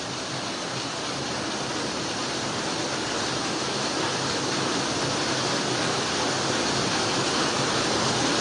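Floodwater rushes through a street in Quezon City during Super Typhoon Carina's heavy rain, a loud unbroken roar of churning water with no pauses or voices.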